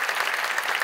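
A church audience gives steady applause at a teachers' appointment and awards ceremony for a long-service honoree, a dense, even wash of many hands clapping close and loud throughout the short stretch.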